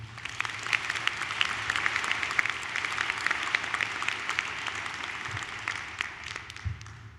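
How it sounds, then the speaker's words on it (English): A large crowd applauds steadily at a high school graduation ceremony for the class of 2026, a dense wash of clapping that holds evenly before thinning slightly at the end. "Let's have another round of applause for them."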